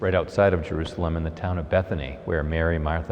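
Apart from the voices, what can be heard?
No distinct noise like a dog, phone or traffic.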